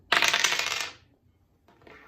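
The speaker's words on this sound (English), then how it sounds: "Let's roll our dice and see what we've got" Dice rolled and rattling across a hard surface, a bright clattering burst lasting under a second, then a short quieter second rattle, close and with no talk.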